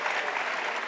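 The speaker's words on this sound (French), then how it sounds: "Ah, et ils applaudissent." An audience at a stand-up comedy show claps in a steady, dense burst of applause, loud and continuous, with no speech.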